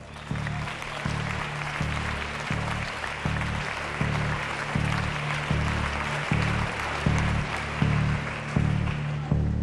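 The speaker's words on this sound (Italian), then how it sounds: "Applausi." An audience claps at a Miss Italia 2005 preliminary selection, a continuous wash of applause layered over a thumping, evenly pulsing music beat that runs throughout.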